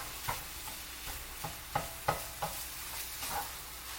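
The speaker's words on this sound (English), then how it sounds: "I'll show you what you do next when the sausage is cooked in here. I'm sure you can hear it sizzling." Sausage sizzling and frying in a pan, a steady hiss with sharp crackles and pops scattered throughout, heard close and alone with no talking.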